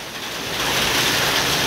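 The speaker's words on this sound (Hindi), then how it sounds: "बारिश भी इतनी ज़्यादा हो रही है" Heavy monsoon rain pours outside a coaching class, a dense, steady hiss that swells slightly and continues unbroken, loud and enveloping with no speech.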